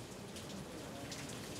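Rain falling steadily outdoors, a dense, even hiss of drops on surfaces with no breaks, moderately quiet and alone without voices.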